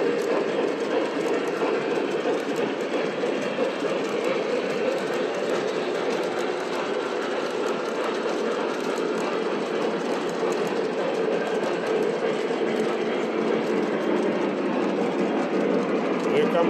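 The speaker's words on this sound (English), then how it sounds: "I've never been able to get 4 trains running at the same time before." Four model trains, including a large Lionel-style 4014 Big Boy, run continuously on their tracks, giving a steady, even whirring and clicking hum with no pauses.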